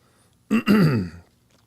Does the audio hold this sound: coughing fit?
yes